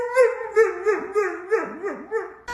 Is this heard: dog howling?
yes